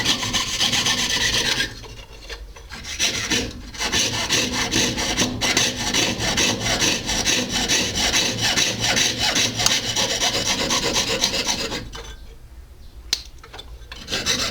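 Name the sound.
jeweler's saw cutting metal in goldsmithing lesson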